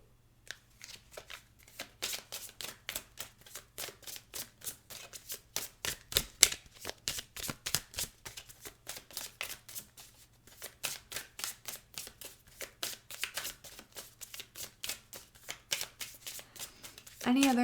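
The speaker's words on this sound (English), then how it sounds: "I want to pull you a couple of oracle cards and see what else is coming through for you." A deck of oracle cards shuffled during a tarot-style pick-a-card reading, giving steady rapid riffling flutters in quick bursts that run nearly the whole time, close and fairly loud, with a voice speaking over the shuffling.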